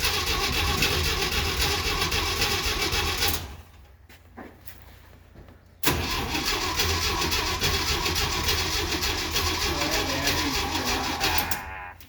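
A 1969 Jeep Willys CJ5, hard starting after sitting seven months, cranks over in two long bursts of rhythmic, loud grinding starter churn separated by a short pause, heard close up with no talking.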